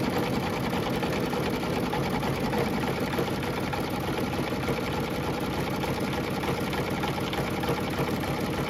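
An embroidery machine stitches a quilted lace zip bag in the hoop, a loud, steady, continuous mechanical whir with fast needle rhythm running unbroken throughout, no voices.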